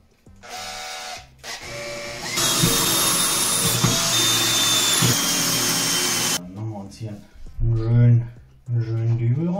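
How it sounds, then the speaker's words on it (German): Cordless drill boring into wall tile beside a grout joint, a loud sustained whine of several seconds with pitch shifting as the bit cuts, framed by brief speech before and after. "Akkubohrer nehmen."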